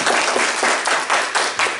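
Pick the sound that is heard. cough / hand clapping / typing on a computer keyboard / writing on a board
hand clapping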